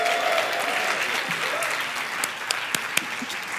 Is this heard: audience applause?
yes